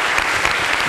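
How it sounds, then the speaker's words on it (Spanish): Audience applause at a history talk in Tucumán: a dense, steady burst of clapping from a crowd, loud and close, with no voices over it. "Fuerte aplauso."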